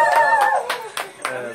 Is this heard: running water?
no